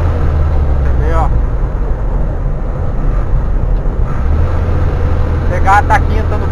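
Truck engine on a Brazilian road past sugarcane fields, shifting into fifth gear: a steady, loud low drone that dips briefly and settles lower, with speech over it.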